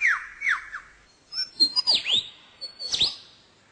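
A lyrebird mimics the calls of other bird species in a forest, giving a close, varied run of descending whistles, sharp chirps and squawky notes in quick bursts with short gaps.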